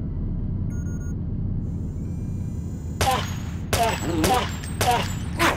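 Bursts of gunfire aimed at enemies in the Deus Ex video game, four or five short sharp volleys in the second half over a low droning hum.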